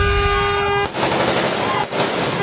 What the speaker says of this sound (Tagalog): Sunod-sunod na umalingaw-ngaw ang mga putok ng baril sa Barangay Kapiyan sa San Rafael, Bulacan, pasado alas 3 kaninang hapon.